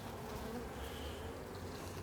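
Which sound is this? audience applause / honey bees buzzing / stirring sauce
honey bees buzzing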